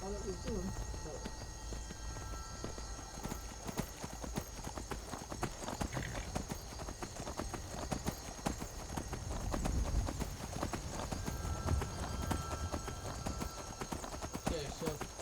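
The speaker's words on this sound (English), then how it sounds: "I'd like to request that my horse come home." Horse hooves in Skyrim Anniversary Edition clip-clop steadily and close by for the whole stretch, layered over dense in-game ambience.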